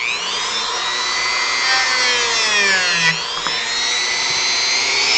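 Tiny carved pieces of a model are worked down with a small rotary tool, a close, steady high whine that shifts pitch as the bit bites and eases, with a brief clatter near the end and no voices.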